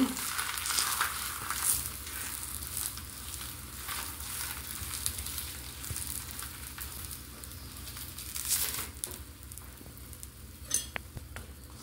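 A chapati sizzles and crackles in ghee on a griddle, with a steady frying hiss and an occasional scrape.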